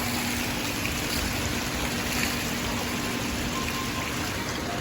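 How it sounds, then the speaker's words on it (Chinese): Water poured in a small waterfall-like stream during a child's water play, a loud, constant close rush and splash without pauses, no speech. "瀑布，这叫瀑布。"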